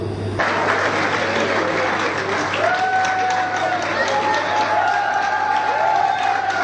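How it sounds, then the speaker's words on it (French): Warm applause from an audience at the official launch of a journalists' association, sustained clapping from a full room with voices and faint tonal sounds beneath. "Je leur demande de se tenir debout et vous prie de les applaudir chaudement"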